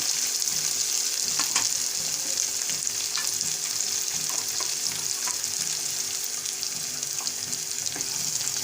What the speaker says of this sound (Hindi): मिक्स करेंगे सारे मसाले को। ज़बरदस्त सा इसका ये बघार रेडी हो रहा है। 1-8 मिनट हम इसको फ्राई करेंगे।